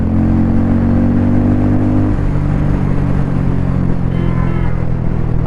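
A 2024 Harley-Davidson X440 engine pulling loudly while riding through first and second gear, a rising drone that drops at a shift then climbs again, steady and close with no talk.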